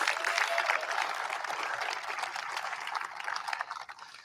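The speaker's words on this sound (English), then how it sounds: "You should applaud that" An audience applauds during a presidential speech at an Intel event, steady dense clapping that swells at the start and gradually thins toward the end.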